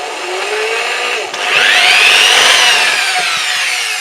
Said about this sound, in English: Let's see, yep, we can get the drill in there.